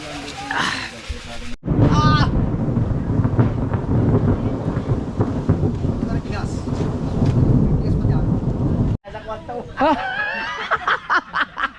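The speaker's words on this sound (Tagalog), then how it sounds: "Nakakidlat-kidlat eh." Thunder rolling during a lightning storm at night, long deep rumbles that swell and fade, with people talking and laughing over and between them.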